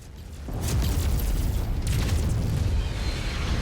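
Heavy artillery shells slam down in the MechWarrior 5 mech combat game, a sudden loud rumbling boom that begins about half a second in and rolls on as a dense, sustained roar of blasts to the end.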